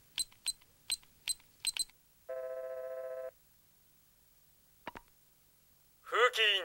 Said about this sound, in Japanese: ああ、電話してみるぞ。